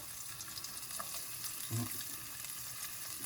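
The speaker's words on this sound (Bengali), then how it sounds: "রসুন ফেললাম" Garlic dropped into a hot pan for a simple home-cooked potato and rice meal, giving a steady low sizzle of frying with a brief louder burst of spitting and stirring near the middle, no voices.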